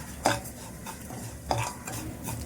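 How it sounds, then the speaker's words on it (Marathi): Roasting rice semolina in ghee for rice kheer, a spoon stirring and scraping the pan in two distinct strokes over a soft, steady sizzle, quiet and close with no voices. "तांदूळचा रवा जो आपण भाजतोय ना तुपात"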